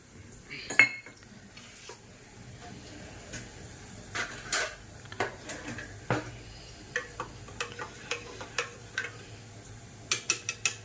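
A spoon stirring sour starter into warm milk in a pot to set curd, with a string of sharp metallic clinks and taps spaced through a quiet background, some closely clustered, others a second or so apart.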